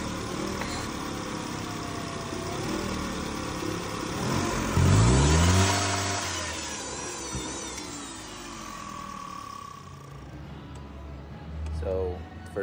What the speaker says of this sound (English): when I accelerate pedal all the way down to the floor, this is what it does. It barely wants to accelerate